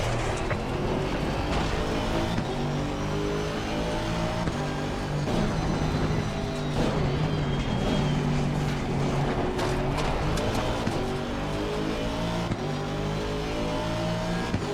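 Race car engine in the video game Assetto Corsa Competizione at Mount Panorama, loud and continuous throughout, with repeated revving climbs through the gears, brief lifts and shifts, and faint tire noise underneath.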